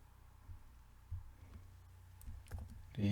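Computer keyboard keys and mouse buttons clicking while code is copied from GitHub: sparse, soft taps and a few quick clicks close by, spread across a quiet stretch without talk.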